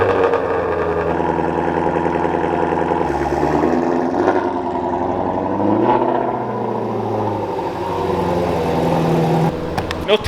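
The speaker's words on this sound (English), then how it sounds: "Cold startup, Shelby GT350." A Shelby GT350 on a cold start, its engine rumbling at a high idle with a few revs swelling and falling back, close by and loud.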